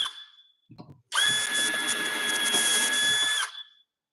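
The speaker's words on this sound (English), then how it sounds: "That's a nice little drill." A small Milwaukee cabinet drill gives a couple of short trial blips, then runs in one steady, close, high whine for about two and a half seconds before spinning down. No voices are heard.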